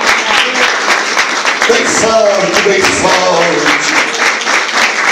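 Church congregation clapping in praise during a Portuguese-language sermon, loud dense applause filling the whole stretch while a voice speaks over it briefly.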